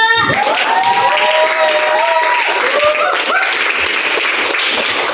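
A secondary school class claps together after a group's report, a brief burst of applause under faint tonal sweeps and some voices.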